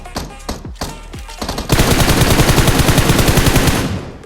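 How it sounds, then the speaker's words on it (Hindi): Gunfire in PUBG Mobile: a few separate close shots ring out, then a loud sustained burst of rapid automatic fire rattles on for over two seconds, with no talk. "सामने की ओर गोली चल रही होती है"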